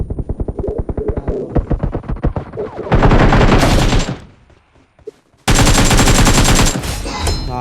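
Rapid automatic gunfire bursts in a shooting video game, loud and close, two long sustained volleys separated by a short quiet gap, preceded by a quicker run of individual shots.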